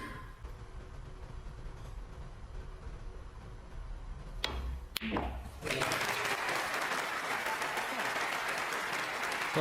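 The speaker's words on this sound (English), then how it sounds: "the crowd liked that one, didn't they?" A snooker crowd breaks into sustained applause, a dense wash of clapping that starts abruptly after a couple of sharp clicks and carries on to the end, with faint talk beforehand.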